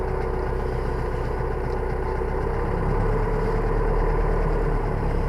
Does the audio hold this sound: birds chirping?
no